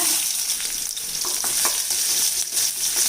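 Steady, loud sizzling of about ten crushed garlic cloves frying in hot sesame oil, continuous with faint crackles and occasional stirring scrapes.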